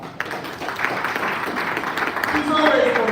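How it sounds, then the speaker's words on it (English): An audience clapping for a woman, a dense close burst of applause that swells and holds steady, with voices mixed in under it. "let's clap for her"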